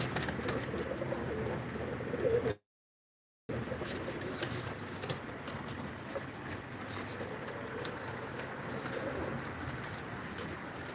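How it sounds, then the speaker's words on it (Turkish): Pigeons coo softly in a rooftop loft among a mixed flock, with the low calls repeating under a constant background of rustling and wing movement. "Şimdi orada bir 6-7 takım kuşumuz var."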